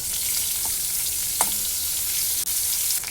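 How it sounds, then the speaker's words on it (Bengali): Cauliflower pieces fry in oil left over from frying potatoes and are stirred, giving a steady close sizzle with a few brief stirring clicks and one short scrape. "এই আলু ভাজার তেলের মধ্যেই কপিগুলো আমি ছেড়ে দিলাম আর তেলের মধ্যে দিয়ে নাড়াচাড়া করে ভালো করে ভেজে নেব"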